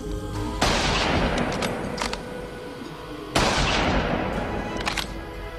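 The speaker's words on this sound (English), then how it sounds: "Next, we're going to try an 8mm Mauser from World War II." Two loud, sharp reports from a World War II 8mm Mauser rifle fired at a helmet, a few seconds apart, each cracking sharply and then decaying into a rumbling echo.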